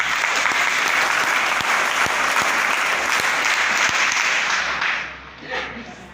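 Loud, sustained applause from an audience at an SDRF training music event in Lucknow, dense clapping throughout that tapers off near the end.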